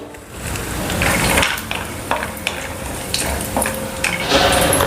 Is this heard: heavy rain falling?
no